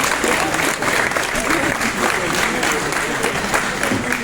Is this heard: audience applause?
yes